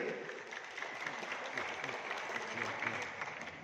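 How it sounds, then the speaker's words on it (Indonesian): An audience claps for a government housing minister at an association anniversary gathering, a fairly faint, steady patter of many hands heard from a distance in a large hall. "Tepuk tangan Bapak Menteri."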